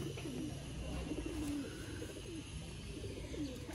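Sialkoti pigeons kept by a breeder coo softly and continuously at close range, with low rolling calls over faint background noise.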